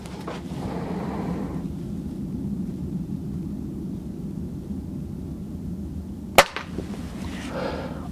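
Crosman Benjamin Mark II 4.5 mm air pistol shot: one sharp, close crack over a steady low background hum, with no other shots.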